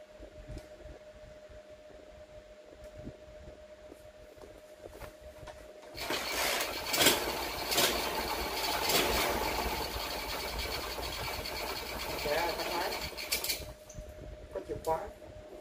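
A rebuilt 70cc Honda Cub CD90 motorcycle engine, kick-started and then run on a test stand, gives a fast, even, fairly quiet mechanical clatter for several seconds before it cuts out. A faint hum and clicks come before it.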